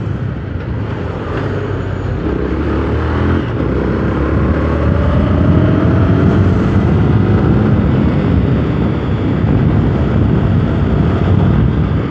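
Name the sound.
motorcycle riding, engine and wind noise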